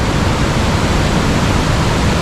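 Fast river current crashing against rocks, throwing up spray like mist, a loud steady broadband roar filling the whole moment with no breaks and no voices.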